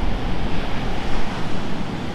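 Big ocean waves break on the coast at Aberdeen, Scotland's east coast, a loud, dense continuous roar of surf mixed with wind buffeting the microphone, with no voices.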